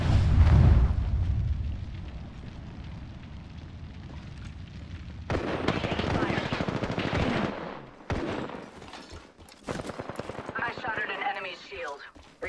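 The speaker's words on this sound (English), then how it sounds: "Opening fire." Weapon fire in the video game Apex Legends, with bursts of automatic gunfire and booms set against game music and character voice lines.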